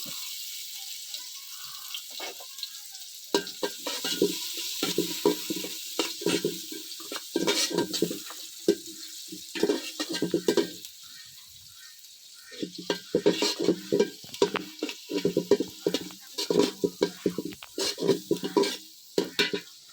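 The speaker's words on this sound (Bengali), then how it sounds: "তো পেস্টটা একটু হালকা ভাজা দিয়ে নেব" Spice paste fries in white oil with chopped onion in a cooking pot, heard as repeated close stirring scrapes and clatters over a soft sizzle, pausing briefly midway before resuming.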